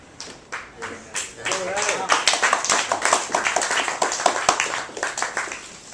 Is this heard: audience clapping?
yes